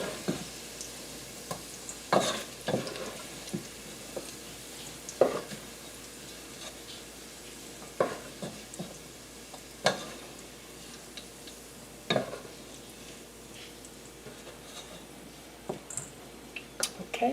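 A pot with kielbasa drippings sizzles softly and steadily, punctuated by sharp intermittent clicks and taps of a utensil against the pot over a quiet hiss.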